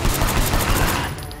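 Rapid burst of gunfire in the Sleeping Dogs video game, a dense fusillade of close, loud shots packed into about a second before cutting off.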